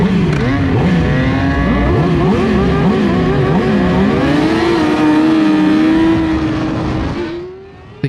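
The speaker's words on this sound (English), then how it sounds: "I am not ready at this moment until I start hearing the bikes rev up." Racing motorcycles rev on the starting grid at a desert track race, loud and close. Several overlapping engines rise and fall in pitch, the revving continuous until it tapers off near the end.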